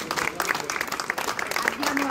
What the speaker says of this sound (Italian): Un applauso che possiamo fare.